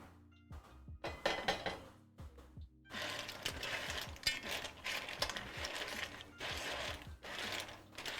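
Metal clams clink and rattle against a cooking pot as they are stirred, a busy run of clattering shell and pot knocks building into continuous scraping, close and fairly loud with no talk.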